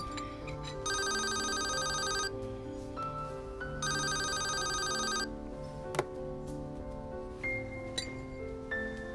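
A telephone rings in two long bursts of bright, rapid bell trills, each about a second and a half, with quiet indoor background and small clinks between rings.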